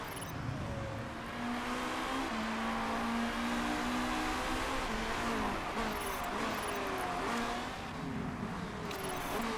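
Race car engines hold a steady high-revving drone in the Motorsport Manager GT racing game, loud and continuous throughout, with pitch sweeps as cars shift and pass.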